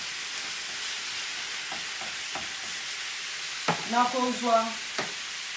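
Meat frying in a little oil in a pan, a soft steady sizzle running throughout, with a few louder crackles and spits bursting up near the end and faint voice sounds in the background.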